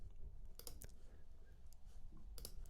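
A few quiet mouse clicks on a computer button, sharp isolated taps spaced apart over faint room noise.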